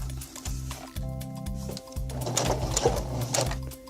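A sewing machine stitches along the tulle and satin skirt hem of a formal dress, a close, rhythmic motor hum that pauses briefly a few times, then runs continuously with fabric rustling over it and no talking.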